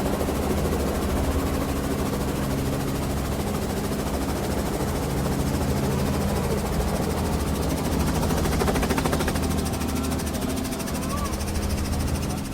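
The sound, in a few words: helicopter lifting off, open-sided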